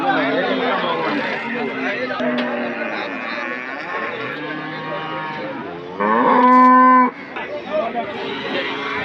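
Native cattle at the Saturday cattle market in Anthiyur. A loud, drawn-out moo rises near the end over constant crowd chatter and people talking nearby.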